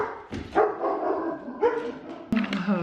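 A big old dog barks a few times close to the camera, short deep woofs and yips in a quiet room, with a whimpering tail between barks.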